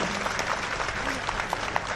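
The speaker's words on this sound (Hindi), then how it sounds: "एक बार जोरदार तालियां बजाइए बच्चों के लिए" An audience at a Hindi-language ceremony honouring children bursts into dense, steady applause. The clapping is continuous and close for about two seconds, with a faint murmur of crowd voices beneath it.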